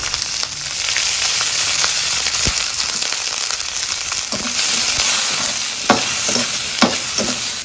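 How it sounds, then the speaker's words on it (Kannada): Green chillies fry in a little oil in a village kitchen, a steady close sizzle running throughout with occasional sharper crackles and pops near the end. "ಮೆಣಸಿನ್ಕಾಯಿಗೆ ಒಂದ್ ಸ್ವಲ್ಪ ಎಣ್ಣೆ ಹಾಕ್ತೀನಿ. ಸ್ವಲ್ಪ ಹುರಿಲಿ."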